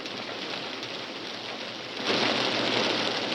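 Rain drums on a roof in a dense, even hiss that swells noticeably louder partway through; no voices over it.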